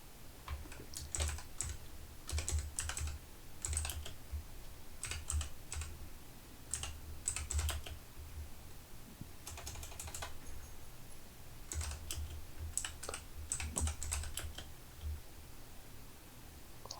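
Steady typing on a computer keyboard, rapid clustered keystrokes in bursts with short pauses, close and alone without speech.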